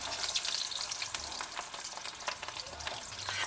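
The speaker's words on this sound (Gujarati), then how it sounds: "આપણે પહેલાં એમાં જો આ ડુંગળી આપણે તળવાની છે આ રીતની" Whole onions sizzle and crackle steadily in hot oil, close and fairly loud, with scattered pops and the occasional stir.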